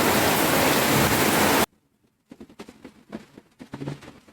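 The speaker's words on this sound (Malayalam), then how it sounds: "നല്ല മഴയുണ്ട്. പുറത്ത് നല്ല മഴ." A dense, steady hiss of heavy rain for over a second, then it cuts off abruptly, followed by quieter scattered knocks and rustles.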